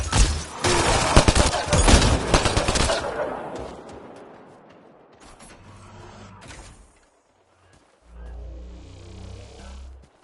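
Video game gunfire against raised shields, a dense, loud burst of rapid shots and impacts for about three seconds that fades into rumbling echoes, followed by quieter scattered shots and a low humming tail.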